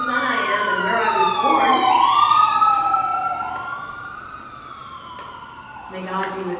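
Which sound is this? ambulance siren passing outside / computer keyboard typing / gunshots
ambulance siren passing outside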